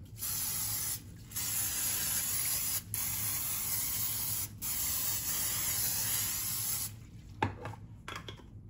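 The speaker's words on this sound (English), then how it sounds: "Spray some of your cooking spray on top of your chicken." Several bursts of aerosol cooking spray hiss close by onto chicken on a sheet pan, separated by brief pauses, followed by a few light clattering handling noises at the end.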